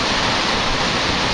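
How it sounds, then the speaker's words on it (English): Running high after rain, river water rushes and sprays in the Elan Valley, a loud, dense, continuous roar close by with no breaks. "that water's coming over there, quite high today, with all the spray coming up"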